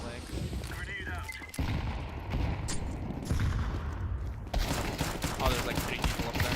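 Counter-Strike 2 gunfire in busy bursts of rapid shots and impacts, loud and dense throughout, with a player's voice talking over it.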